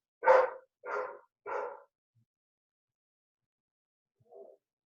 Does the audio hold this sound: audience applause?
no